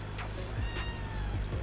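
A cat meows in a few short, fairly faint calls over a steady low engine-like hum.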